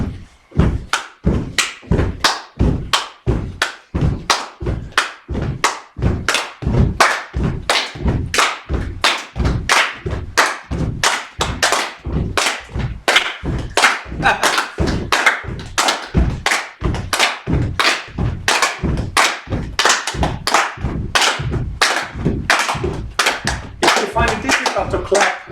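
A group claps hands and stomps feet in a steady, driving rhythm at a retreat session. The sharp, loud beats repeat evenly for a long stretch without letting up.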